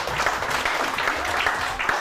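Applause for a hair product on a Pakistani weekend TV show, dense steady clapping from a studio audience lasting throughout, fairly close and loud, with a faint voice underneath.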